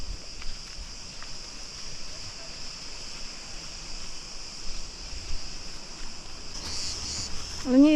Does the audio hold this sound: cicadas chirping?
yes